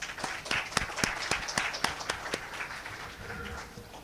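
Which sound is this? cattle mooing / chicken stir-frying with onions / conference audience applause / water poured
conference audience applause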